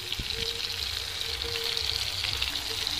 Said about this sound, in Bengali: ফোড়নটা ফুটে গেছে, এর মধ্যে টমেটো কুচি দিয়ে দিচ্ছি।